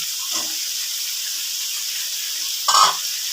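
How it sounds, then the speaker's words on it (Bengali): Eggplant and pumpkin stems hit a hot frying pan, giving a loud, constant close sizzle with two brief bursts of stirring and crackle. "দিয়ে দিচ্ছি বেগুনগুলো। দিয়ে দিচ্ছি কুমড়োর ডাঁটা।"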